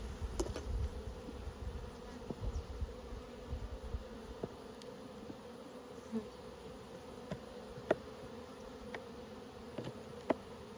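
Honey bees buzzing around nucleus hives during frame work at an apiary, a faint continuous drone with occasional individual bees passing close, plus a few light clicks and knocks.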